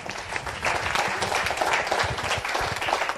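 Crowd applauds a young reader at a departmental reading-contest final for children, a continuous, even patter of many clapping hands heard at moderate distance for about three seconds.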